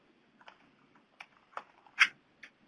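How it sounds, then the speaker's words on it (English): Typing on a computer keyboard, heard as a few sparse, uneven clicks and taps close by in a quiet room, with one sharper, louder keystroke near the end. "I'm having a hard time typing."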